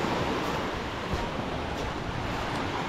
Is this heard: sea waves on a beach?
yes